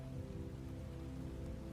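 Steady rain falling on a surface, a dense, even patter that stays constant and fairly soft throughout, with no voices or other sounds.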